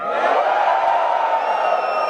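A large audience at an Amway Diamond Celebration shouts and cheers in one loud, sustained roar, a few higher whoops and whistles riding on top of the crowd noise for its whole length.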